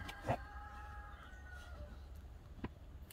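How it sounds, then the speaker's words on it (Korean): A rooster crows faintly and at a distance, one short call early on and a softer one later, over quiet background hiss. "저기 지금 닭 울죠?"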